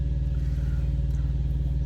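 A power inverter runs inside a truck cab, giving off a steady, loud, low droning hum with a faint buzzing texture that stays constant throughout, with no voices.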